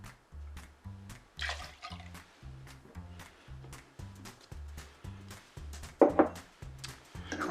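Two ounces of Cocuy, a Venezuelan agave liquor, poured into a margarita, heard as a short liquid splash and trickle under steady rhythmic background music.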